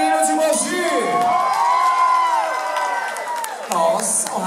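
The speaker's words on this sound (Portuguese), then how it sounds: "Vamos lá por aplausos." Studio audience at a Brazilian TV dance-club show cheering, whooping and shouting with some clapping, a loud excited crowd throughout with voices rising over the noise.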